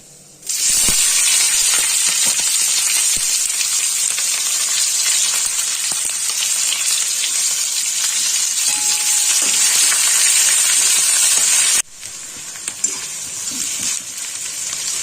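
Chopped onions hit hot oil already tempered with whole spices, bursting into a loud, steady sizzle that holds for about eleven seconds before dropping to a quieter fry with a faint clink.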